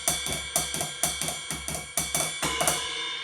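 A ride cymbal on a Roland TD-11K electronic drum kit is played in a steady pattern of repeated bright pings with sustained shimmer, close and alone, about eleven strikes over a few seconds.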